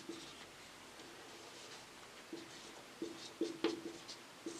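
Pen writing given values for a class 10 maths exercise, soft scratching strokes, a few sharper taps near the end, faint and close in a quiet room.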